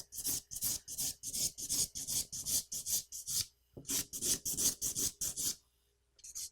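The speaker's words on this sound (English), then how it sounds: "I don't file straight across because it makes the nail flat, so I bevel down like a horseshoe" A nail file rasps across a fingernail in quick, even strokes, a close, crisp scratching rhythm with a brief pause before the rapid filing resumes, then stops.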